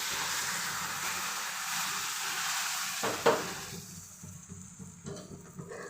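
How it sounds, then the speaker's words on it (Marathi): Hot milk poured into semolina roasting in a pan for sheera gives a steady hiss and sizzle, with a brief louder bubbling splash partway through before the sound settles into a quieter sizzle. "ते गरम दूध यामध्ये टाकून घेणार आहे"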